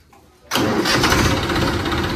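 A tractor engine cranks and catches abruptly, then settles into a loud, steady diesel rumble close by.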